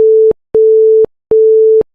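A phone line gives its tone after a call is hung up in an animated cartoon: three loud, evenly spaced electronic beeps with short gaps, steady and clean.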